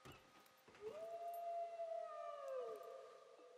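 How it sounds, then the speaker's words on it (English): A wolf howl in the survival game SCUM, one long rising then sustained tonal cry heard at a distance, clear over a quiet background with a faint thump before it. "I don't know if that was a real wolf or part of the sound effects from over there."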